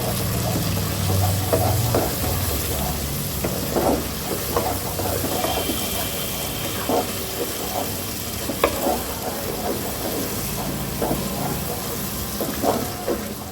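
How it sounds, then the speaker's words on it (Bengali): Ground cumin, coriander and turmeric masala fries in a pan with a loud, continuous sizzle, and frequent scrapes and clacks of stirring sound up close throughout. "গুঁড়ো মশলাতে রয়েছে জিরে গুঁড়ো ধনে গুঁড়ো আর হলুদ গুঁড়োটা আমি এখনই দিয়ে দেবো দিয়ে এবার আরও কিছুক্ষণ কষাবো"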